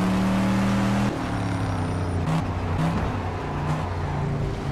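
A Ford Mustang in the Project Cars racing game revs loudly up close, its engine tone rising and falling through several gear shifts, heard alone without talk.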